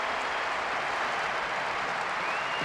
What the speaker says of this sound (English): the crowd seems highly motivated. They're really making themselves heard.